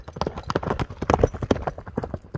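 A strong horse, a stallion being sold, gallops off at speed over earth, its hooves clip-clopping in a quick, loud, close rhythm that digs into the ground.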